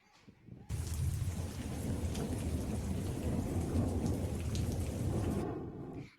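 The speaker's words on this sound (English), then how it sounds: "I'm afraid of the storm, ma'am." A heavy thunderstorm starts abruptly, with dense, loud rain pouring down and low thunder rumbling underneath, holding steady for several seconds before cutting off.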